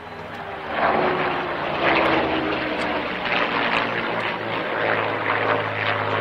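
A propeller fighter aircraft in the markings of the 11th Fighter Squadron, 343rd Fighter Group, dives low and pulls up at the Duxford Flying Legends airshow, its engine a loud, steady, swelling roar throughout.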